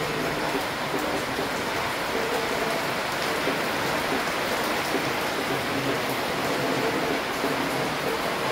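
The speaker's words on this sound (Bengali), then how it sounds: "বাইরে মুষলধারে বৃষ্টি পড়ছে" Heavy rain pours down outside a home during a family Durga Puja on Dashami, a steady, even hiss of downpour with no voices.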